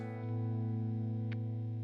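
A 1972 Yamaha SA-50 electric guitar with the pickup selected toward the bridge rings out as a sustained chord with a thick, effect-laden distorted tone, held steady and loud with no talking.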